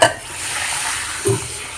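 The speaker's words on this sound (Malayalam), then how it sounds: "കൊണ്ടാട്ടം വറക്കണത് കേട്ടോ." Tapioca kondattam frying in hot oil, a continuous close sizzle with a soft clatter at the start and another brief stir near the end.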